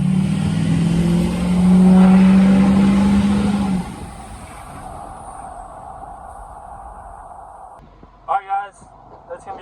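A diesel tow truck fitted with new 155cc injectors, a daily driver, roars loudly and drones during a burnout before the engine noise falls away. Someone talks over it and after it.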